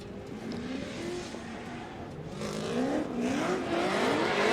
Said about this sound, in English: I'm seeing Odie warming up his tires